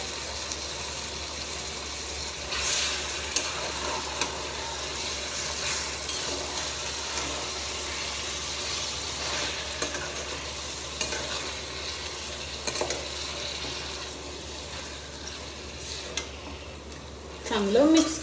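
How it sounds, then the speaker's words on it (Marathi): Marinated chicken frying in a pan for homemade chicken biryani, with a steady, close sizzle throughout, occasional stirring scrapes and light utensil clinks, and a louder burst of clatter near the end. "आता त्यामध्ये आपल्याला मॅरिनेट केलेलं चिकन टाकून घ्यायचं."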